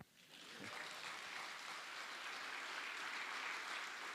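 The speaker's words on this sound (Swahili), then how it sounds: "Nipigieni makofi." An audience at a talk at the University of Nairobi bursts into applause, a dense wash of clapping that swells quickly and holds steady and fairly distant for several seconds.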